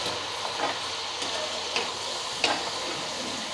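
Peanuts frying in hot oil for a bakery-style shavige mixture give a continuous soft hiss with a few light clinks and stirs. No one talks.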